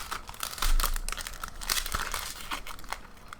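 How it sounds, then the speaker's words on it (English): Plastic packaging crinkles and crumples as drills are unboxed, close and fairly loud, with irregular crackling bursts and a few tearing rustles throughout. "I apologise for the rustling."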